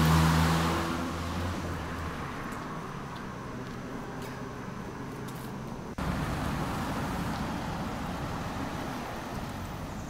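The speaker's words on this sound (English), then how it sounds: "a lot of traffic goes up and down it" Steady road traffic on the Bishop's Avenue in London, a broad continuous wash of passing cars with a low rumbling vehicle pulling away at first, heard from the roadside with no talking.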